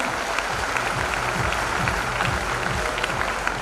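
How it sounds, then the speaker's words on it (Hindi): An audience at a Safe Shop motivational welcome event in Chandigarh applauds in a steady, full wash of clapping with a faint rhythmic thumping underneath. "एक बार जोरदार तालियां।"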